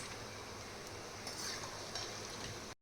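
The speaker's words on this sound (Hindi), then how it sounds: "देखिए अब हम इस तरह से इस नमक पारे को भी तल लेंगे" Namak para dough pieces fry in oil over a low to medium flame, a soft, steady, even sizzle that stays faint throughout before cutting off at the very end.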